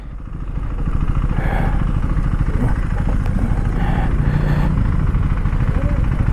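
KTM Duke 390 motorcycle running on an empty road, its engine rising in the first second to a loud sustained rumble with fast rhythmic pulsing and faint wind noise.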